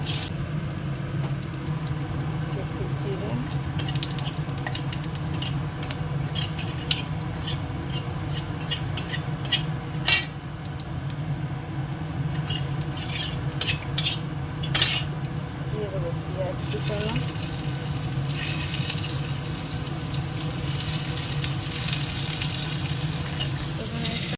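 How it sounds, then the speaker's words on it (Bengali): Potatoes frying in oil in a pan after fish, a constant loud sizzle with scattered clinks and scrapes of utensils, plus a low steady hum underneath. "মাছটা ভেজে তুলে নিয়েছি এবার আলুটা ভেজে নেবো"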